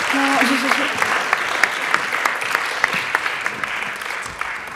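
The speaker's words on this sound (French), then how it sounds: "vous pouvez encore les applaudir le temps qu'elles sortent de l'hémicycle" Sustained applause from an audience in a debating chamber at the close of a verbal jousting final, dense and steady throughout with sharper individual claps popping out, and a brief voice at the start.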